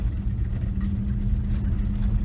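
A 1986 Dodge Ram D100 pickup with a slant six engine drives along, giving a loud, steady low engine drone with a constant hum throughout and no talking.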